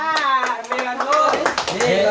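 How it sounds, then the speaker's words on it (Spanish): A crowd claps and cheers for a contestant named Ricky at a dare game involving a mustard, chile and milk smoothie. Scattered hand claps are mixed with loud shouting voices throughout the short burst. "¡Aplausos para Ricky!"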